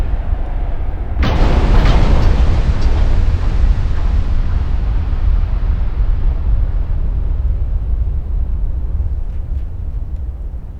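Naval guns thunder in the warship battle game Ultimate Admiral Dreadnoughts, a loud sudden boom opening into a sustained, rumbling wash of shell blasts and battle roar that stays dense and heavy throughout.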